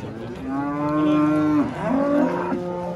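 Bulls at a livestock market in Nookat bellow in long, loud, drawn-out moos, one low call sliding and breaking into a second close by over the murmur of the crowded market.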